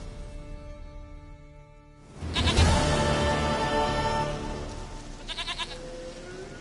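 A goat in The Witcher 3 lets out one loud, drawn-out bleat after a quiet start, trailing into a short wavering, stuttering tail near the end.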